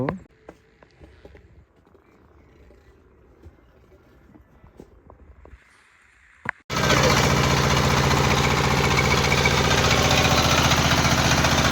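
A fishing trawler's engine starts up and runs with a loud, steady, close mechanical drone after several seconds of quiet background with a voice speaking.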